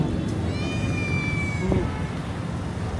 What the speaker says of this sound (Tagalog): Hindi lang dogs, pati mga cats. Tulad dito, may pusa.